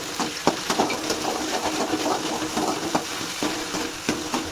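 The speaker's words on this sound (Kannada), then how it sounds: "ಸೊ ಜಾಸ್ತಿ ಬೇಡ, ಹಸಿ ಸ್ಮೆಲ್ ಹೋಗೋಗಂಟ ಫ್ರೈ ಮಾಡ್ಕೊಳ್ಳಿ." Ginger garlic paste fries with onions in a pan, making a steady close sizzle with occasional stirring scrapes and clinks, and no voices.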